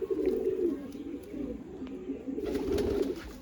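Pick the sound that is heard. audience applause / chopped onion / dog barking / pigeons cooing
pigeons cooing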